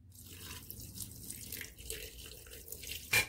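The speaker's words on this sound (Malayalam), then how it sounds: "പാകത്തിന് വെള്ളം ഒഴിച്ചു കൊടുക്കാം" Water poured into a pot of pork being cooked with salt and turmeric, a steady splashing trickle running alone for about three seconds, with a louder splash right at the end.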